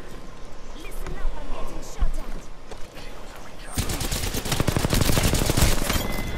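Apex Legends gunfire: scattered shots early, then a heavy rapid automatic burst takes over and builds in the second half, close and loud, with a voice talking over the start.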